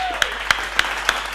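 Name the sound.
audience clapping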